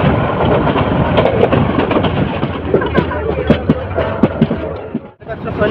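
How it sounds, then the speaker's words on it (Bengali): Chattala Express intercity train from Dhaka to Chittagong running, a continuous rumble with clattering knocks and rattles from the carriage, overlaid by a speaking voice. "আজকে যে ট্রেন দিয়ে যাব সেটি হলো ঢাকা থেকে চট্টগ্রাম মুখোমুখি আন্তনগর চট্টলা"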